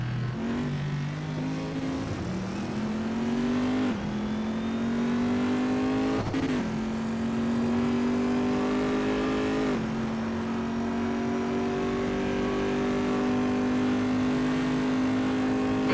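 A Corvette race car engine in an Assetto Corsa racing game holds a loud, steady high-rev drone on track, its pitch climbing slightly through upshifts with brief dips between gears.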